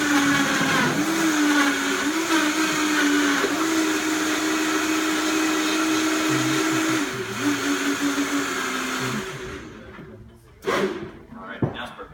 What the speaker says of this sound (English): we're just going to blend this nice and smooth using the trusty Vitamix blender